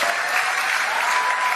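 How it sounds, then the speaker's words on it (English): An awards-event audience claps steadily in a dense, even burst of applause, loud and sustained throughout. "Can I get a round of applause for one of my heroes?"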